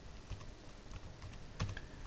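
Quiet computer keyboard typing: a few separate, soft key clicks and taps at an unhurried pace, including presses of the Tab key, with no talking.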